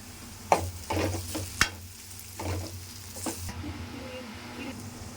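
Onion samosa filling mashed and sautéed in a pan, with sizzling and scraping strokes, two sharp knocks, and a quieter stretch toward the end.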